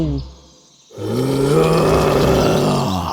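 A low, rumbling lion groan rises after a brief quiet moment and holds steady, deep and close, with no talking.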